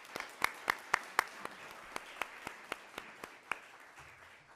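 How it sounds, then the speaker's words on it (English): A small group at a school district board meeting claps for Teacher of the Year finalists, a sparse, fairly quiet run of distinct claps that thins out and stops within a few seconds. "let's give them a round of applause again"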